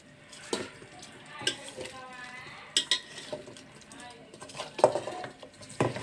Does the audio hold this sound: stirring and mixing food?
yes